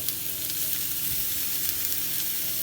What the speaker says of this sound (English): And now I'm going to add on the bacon.